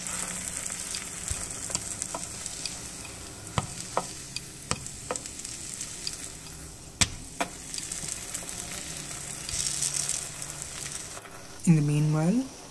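Masala dosa roasting on a pan, a soft steady sizzle under scattered light taps and scrapes, with a brief voice near the end.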